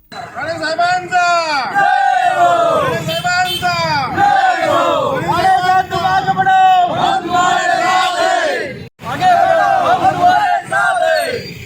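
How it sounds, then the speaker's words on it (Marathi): Loud crowd of party supporters chanting slogans in unison amid fireworks celebrations, rhythmic repeated shouts from many voices, close and sustained with a brief break near the end. "आरोग्य सभापती सुधीर आडेवरेकर यांनी फटाक्यांची आतषबाजी करत जोरदार घोषणाबाजी करून आनंदोत्सव साजरा केला."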